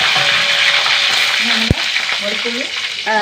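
Dried red chillies and curry leaves crackle loudly in hot oil, a dense close continuous sizzle with one sharp pop halfway through and faint background voices.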